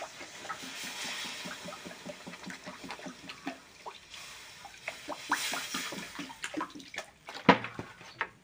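Water is poured into a chuna fish mustard masala curry, giving a steady close gurgle and splash with rhythmic bubbling pulses and a sharper splash near the end.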